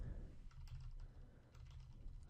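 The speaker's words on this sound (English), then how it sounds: "Okay, so we start typing stuff there." Steady typing on a computer keyboard, a quiet continuous patter of key clicks at a nearby desk, with no voices.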